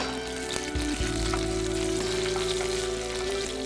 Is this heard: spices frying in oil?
yes